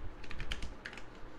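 A password is typed on a computer keyboard, a quick run of distinct key clicks with a short pause midway before a few more taps, close by and fairly quiet.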